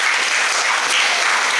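An audience at a school and college inauguration ceremony applauding, a dense, steady burst of clapping from many hands, close and loud.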